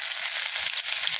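Mustard seeds hit hot oil for an upma tempering. A brief, steady hissing sizzle carries a faint crackle, close and fairly even, with no voices.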